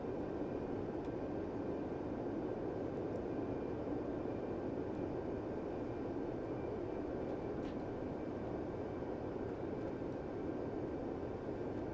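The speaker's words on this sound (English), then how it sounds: "I can hear the tone of the engine shifting more in pitch, but the volume doesn't really change in level." Steady broadband jet engine roar mixed with wind noise from an Embraer E-175 airliner in a flight simulator, continuous and even in level with no voices.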